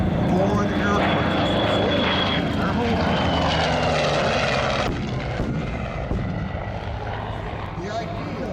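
A WWII propeller aircraft flies past at the Sun n' Fun 2011 air show, its engine drone loud and steady before easing slightly, with a voice faintly in the background.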